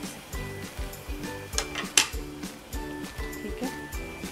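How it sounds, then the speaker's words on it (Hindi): Onions sautéing in a pan for chicken steak, soft sizzling under regular clinks and scrapes of a utensil stirring against the pan, close and moderately quiet, with one sharper metallic knock midway. "इसमें सबसे पहले हम प्याज डालेंगे और प्याज को थोड़ा सा सॉटे कर लेंगे"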